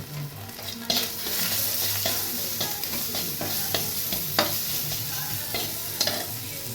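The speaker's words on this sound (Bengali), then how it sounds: "তেল মশলাটা একটুখানি জল দিয়ে কষতে থাকবো ভালো করে।" Spices with red chili powder sizzle and fry in hot oil while being stirred, giving a steady, close crackling hiss with small scraping clicks, and no voices.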